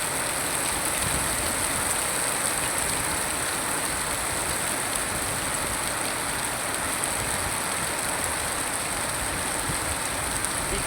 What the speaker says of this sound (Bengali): এটা দিয়ে দেখুন কী যে পরিমাণে বৃষ্টি